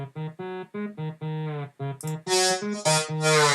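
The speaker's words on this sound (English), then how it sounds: "I added just a normal saw" Plain saw wave synth layer from a dance-music drop in a remix, buzzing through a series of short and held notes with legato slides, then opening up brighter and fuller toward the end.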